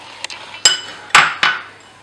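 Utensils clinking and scraping against a bowl while chopped onion and tomato are mixed, a few sharp, separate knocks spread over about two seconds, close and fairly loud with no talk.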